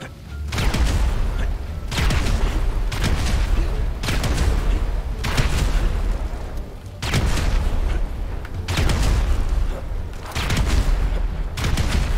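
Repeated C4 charges detonating in GTA 5 on a modded Minecraft-style ice island, a run of loud, close booming blasts in quick succession with rumbling gunfire-like bursts filling the whole stretch.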